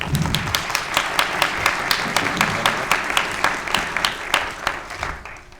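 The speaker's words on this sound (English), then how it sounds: "Ladies and gentlemen, Kenya and Matt, round of applause, please." A conference audience at an opening plenary gives a round of applause as two speakers come up to the stage, with loose, distinct hand claps ringing out steadily over a crowd murmur.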